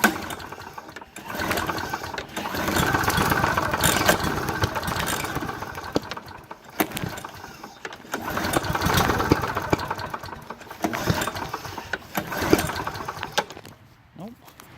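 A small engine with a clogged carburetor is cranked repeatedly, sputtering and revving in uneven bursts without settling into a steady run. The engine is close and fairly loud, with pauses between pulls and a few scattered noises.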